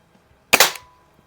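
A Crosman M1 carbine air gun fires one sharp, loud crack that fades quickly, with near silence before and after.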